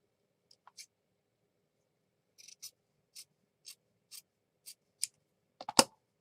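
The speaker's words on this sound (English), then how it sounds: "I'm going to cut this. Where's my fabric scissors?" Fabric scissors cut through fabric in a series of crisp, quiet snips, about eight close cuts at a fairly even pace, ending with a louder double snip.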